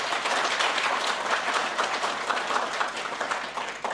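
Audience at an ethics and integrity conference applauding the chief guest, a dense, steady round of clapping from many hands that holds evenly for the full length and tapers slightly at the end.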